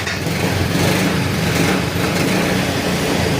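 A motorcycle engine idles steadily and loudly up close after two years left sitting in a repair shop, a dense even rumble with no talk over it.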